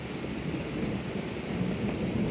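Steady rain pours down through a thunderstorm while thunder rumbles low and continuous underneath, a dense, close wash of sound with no voices.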